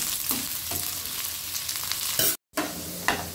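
Whole dried red chillies sizzling in hot oil as a tempering for Bengali khichuri, a steady close crackle with a few sharper pops and a brief dropout.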